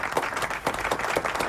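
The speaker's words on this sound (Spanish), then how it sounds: "un aplauso para Walter Alegre" A live audience applauds at a talk event, a brief burst of dense, steady clapping from many hands.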